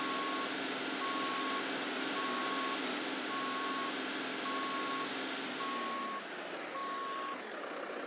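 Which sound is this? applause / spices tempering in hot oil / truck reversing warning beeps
truck reversing warning beeps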